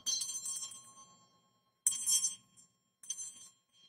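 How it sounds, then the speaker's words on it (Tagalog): A handheld exorcism bell rings three separate times, with bright, close metallic strikes that each shimmer and fade before the next, and the final ring is shorter. "At gagamit din ng itong exorcism, sandali kunin ko, exorcism bell."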